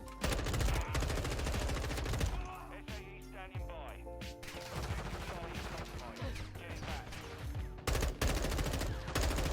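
Rapid bursts of M4 rifle fire in Call of Duty: Modern Warfare II beta gameplay, loud, dense automatic volleys with short pauses between strings of shots.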